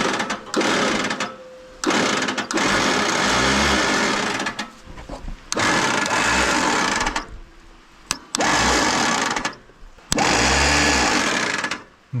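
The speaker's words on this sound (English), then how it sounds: "No, the starter is engaging." An old Allis Chalmers tractor's starter motor whirs loudly in several separate bursts of a second or two each, spinning without the engine catching, with short pauses between tries.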